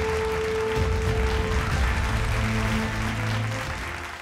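Sustained applause fills a panel discussion at a green energy conclave on solar power for farmers, steady and loud across the hall with a faint tonal hum beneath.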